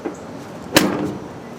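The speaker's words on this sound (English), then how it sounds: "the weather stripping is going to be a little firm at first, so you're going to have to slam the door" A Ford F100 truck door with fresh, firm weatherstripping is slammed shut once, a sharp single thud followed by a short rattling decay.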